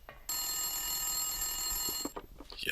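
A telephone rings in a video game, a steady electronic bell holding for about two seconds with bright repeating tones, then breaking off into brief clatter and noise.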